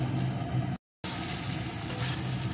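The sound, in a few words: potato and cauliflower frying with spice paste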